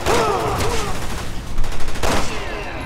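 Burst of gunfire from the Resident Evil 6 video game, several loud shots in quick succession amid game sound effects, with a voice talking over the action.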